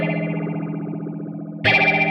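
An electric guitar played through a Mutation Phasor II electro-optical phaser pedal sustains a chord with a sweeping, swirling phase wobble, then a brighter, louder strum enters near the end.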